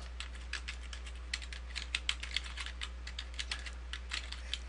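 Keystrokes on a computer keyboard while entering FTP hosting details for a website, a steady run of quiet, close clicks with small bursts over a constant low electrical hum, no talking.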